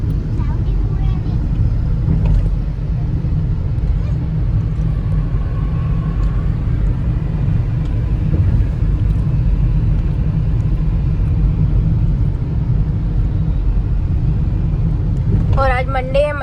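Steady low rumble of a car driving through Monday morning city traffic, continuous road and engine noise throughout, with a brief higher-pitched sound near the end.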